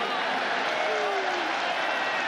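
A football stadium crowd roars steadily at a 1996 Miami vs Syracuse college game, a dense sustained wash of cheering with faint commentary underneath.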